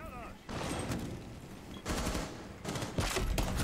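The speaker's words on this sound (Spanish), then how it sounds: "Oh, hay un disparito ahí, fresco." A few sharp gunshot bursts come from Rainbow Six Siege, spaced out across a short stretch with quieter gaps between them. They sound fairly distant and subdued, and no voices speak over them.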